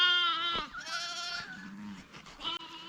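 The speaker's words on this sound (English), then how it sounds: "the little lambs, as you can see, they're having a bit of fun playing up the dirt mound" Young lambs bleat while playing on a dirt mound on a farm, giving a few close, loud, wavering cries one after another with short gaps between them.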